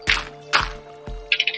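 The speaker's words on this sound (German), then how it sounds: "Ich höre auf jeden Fall Wasser." Water in a small dug-out cave in a video game: three soft splashy drips land at roughly even intervals, followed by a brief quick patter of trickling droplets, close and fairly quiet.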